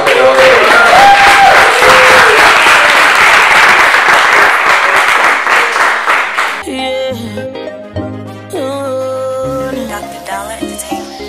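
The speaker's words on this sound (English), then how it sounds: "Ladies and gentlemen, please round of applause." An audience at a brunch for young creatives in Lagos claps loudly for panelists for several seconds, then the applause gives way to music with a steady beat and a voice over it.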